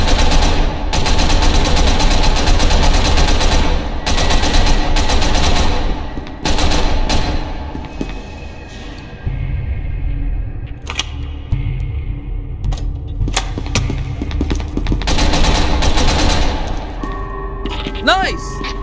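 Gunfire in the video game SCP: Secret Laboratory, loud rapid automatic bursts and thumping shots in long runs with short pauses, with voices talking over the shooting.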